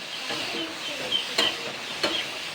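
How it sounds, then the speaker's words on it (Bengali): Pumpkin pieces coated with turmeric fry in a pan as part of spicy pumpkin fritters, giving a steady soft sizzle with a few sharp spatula scrapes and clicks near the middle and end, no voices. "এটাকে আমি সুন্দর হালকা করে দু মিনিট ফ্রাই করে নেব"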